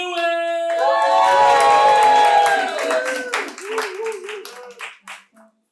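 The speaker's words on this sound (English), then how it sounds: "Guys, give a round of applause going for Chip Lewis." Studio audience at a live late-night talk show clapping and cheering for a brief round of applause that fades out over a few seconds.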